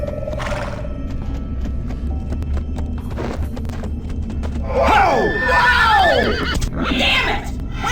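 A horse in the PSP game Dead Head Fred lets out a loud, close whinny with a wavering, descending cry lasting a couple of seconds, followed by another shorter neigh, over a low rumbling background with scattered knocks.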